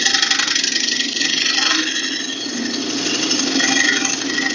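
A bowl gouge scrapes across a spinning wooden bowl on a lathe, giving a steady, continuous hissing scrape with a constant motor hum underneath, close and fairly loud throughout.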